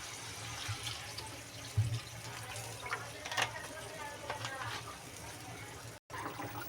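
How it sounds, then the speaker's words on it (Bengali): Water poured into a simmering pot of rohu fish and vegetable curry, a soft, faint splashing and trickling over a few seconds with some quiet background noise. "আমি আর একটু জল দেবো"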